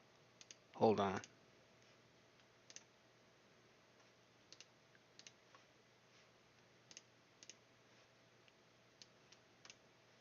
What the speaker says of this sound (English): You can hear the keyboard sounds?